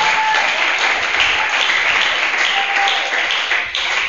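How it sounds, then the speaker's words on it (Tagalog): Loud, sustained applause from a church congregation fills the space evenly for several seconds, dense clapping with no pauses. "Kasi ito yung lakas ng palakpak na gusto ko."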